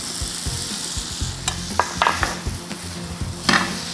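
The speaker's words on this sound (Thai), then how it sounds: "ผัดให้เขาสุกเล็กน้อยนะครับ" Shrimp roe is stir-fried with spaghetti in a pan, a close sizzle broken by several sharp utensil clinks and scrapes against the pan, with no speech.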